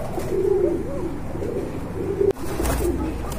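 Low, steady cooing of Rasgolla pigeons rolls on in a continuous murmur, with a brief sharp knock partway through and no talking.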